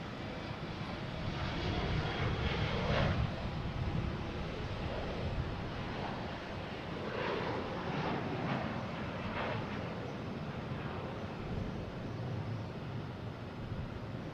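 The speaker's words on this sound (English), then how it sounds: "next taking off is American Airlines" An American Airlines Embraer E175 taking off from Boston Logan, bound for Reagan, gives a steady broad engine roar heard from a distance, swelling slightly early on and then holding evenly.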